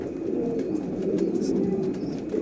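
Chuhay kabootar pigeons, Sialkoti birds from Master Abdullah's line, cooing in a steady close murmur with overlapping low rolling calls.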